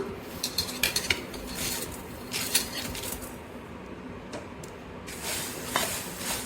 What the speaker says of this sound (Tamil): ஆயில் எதுவும் சேர்க்காதீங்க அப்படியே லைட்டாக பொன்னிறமாகிற வரைக்கும் வறுத்துக்கலாம்